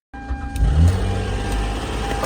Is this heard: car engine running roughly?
yes